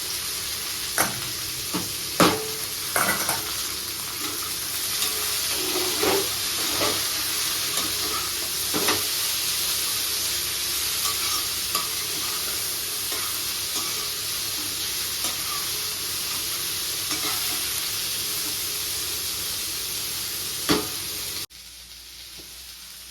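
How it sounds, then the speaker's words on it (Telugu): Jackfruit seeds frying with onion in a pan, a continuous close sizzle with scattered sharp clinks and scrapes of stirring, ending abruptly near the end. "ఇప్పుడు పనస గింజలు వేసి వేయించుకున్నాను."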